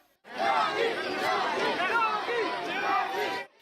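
A dense crowd gathered for Chief Minister Yogi shouts slogans in his support, many overlapping voices chanting and yelling loudly and continuously, close and crowded, then cutting off.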